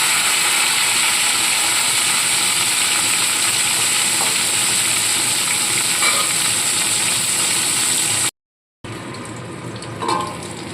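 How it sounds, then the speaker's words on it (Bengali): Small fish frying in hot oil, a strong steady sizzle with crackles and light stirring, broken by a brief cut of silence before resuming slightly quieter; no speech. "তেলটা ভালো মতো গরম হয়ে গেছে এবার মাছগুলো ছেড়ে আমি ভেজে নেব"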